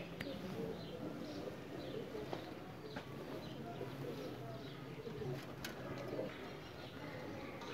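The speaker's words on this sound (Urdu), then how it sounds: "ان میں ایک گولڈن کبوتر ہے، ایک گولڈن مادی ہے" Pakistani breeder pigeons, including golden pigeons, coo softly in the background amid faint rustling and occasional small clicks, all fairly quiet and distant.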